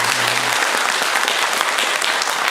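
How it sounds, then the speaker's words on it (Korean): A church congregation at a Sunday morning service claps together to welcome new members, a dense, even wash of applause filling the sanctuary throughout, with a brief low tone at the start. "우리 박수로 우리 한번 환영하도록 하겠습니다."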